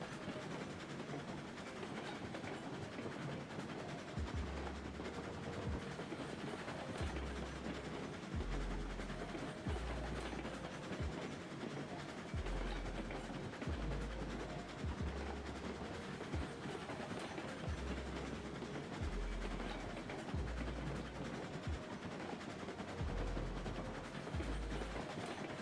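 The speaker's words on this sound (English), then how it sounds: "while we wait for the train to reach the destination," A video game train rolls steadily along, a continuous low rumble with regular rhythmic thumps like wheels passing rail joints, holding at a constant moderate level without talk.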